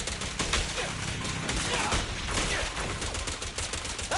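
Rapid gunfire during a fight with ethereals in Zenless Zone Zero, a dense continuous rattle of shots amid game effects for a few seconds, fairly faint overall.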